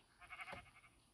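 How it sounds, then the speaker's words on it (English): A single short sheep bleat, faint and wavering, sounds briefly in a quiet scene from a Minecraft-style Steve series. "Why is there a sheep?"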